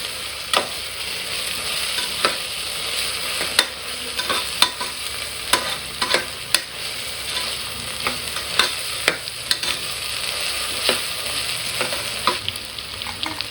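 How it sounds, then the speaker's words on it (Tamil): Ginger garlic paste sautéing in a pan for pressure cooker chicken biryani: a loud, steady sizzle marked by regular sharp spoon scrapes and clicks throughout. "இஞ்சி பூண்டு போட்டு கொஞ்ச நேரம் நல்லா அது வந்து நல்லா வதங்கணும்"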